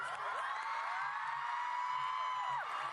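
Stadium crowd at a Stray Kids concert in Sydney cheering and screaming in a sustained, dense roar with high shrill whoops rising over it throughout, loud and continuous with no pauses.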